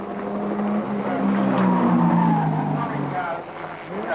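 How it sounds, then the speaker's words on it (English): Tyres squeal on Peter Dane's race car at Mount Panorama, Bathurst, during the 1991 Bathurst 1000 Top 10 Shootout. A loud, continuous engine roar carries a sliding high squeal, with a commentator talking over it. "Tyre squealing going on there on Peter Dane's car."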